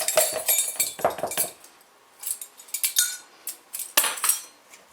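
Bread dough being mixed by hand in a bowl, a utensil clinking and scraping against the sides in quick bursts, then a short pause before more scattered knocks.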